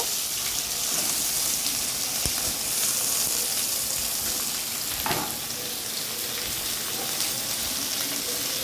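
Chopped vegetables with onion and slit green chillies frying in a pan, a steady close hiss and crackle of hot oil with occasional stirring knocks, no voices.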